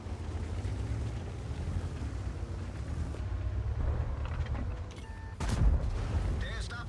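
A tank cannon firing in World of Tanks while driving a Tiger-Maus, heard as one heavy booming shot over a constant low engine rumble and wind-like noise, with someone talking.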